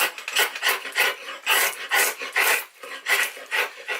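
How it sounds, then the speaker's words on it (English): Sharp draw knife shaving a piece of English yew, giving a rhythmic run of close, rasping strokes, each a short scraping pull, steady and unaccompanied by speech. "Real pleasure to work a decent bit of yew with a sharp draw knife."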